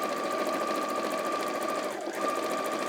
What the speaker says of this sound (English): You don't have to sew as fast as I do. It's a fast little machine, actually, this one